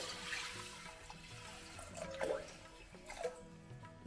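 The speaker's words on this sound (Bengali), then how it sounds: "বেশ তারপরে বেশ অনেকটা আমি জল দিয়ে দেবো ওটাতে" Water being poured into dal while cooking Dal Makhani, a faint, low-level trickling and splashing with a couple of brief louder gushes, with no talking.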